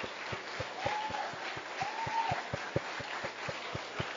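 A church congregation claps together for the Lord in a steady, even rhythm of sharp hand claps, fairly quiet and roomy, with faint voices under it.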